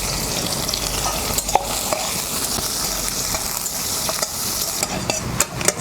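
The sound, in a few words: black cumin seeds and dry chilli sizzling in hot oil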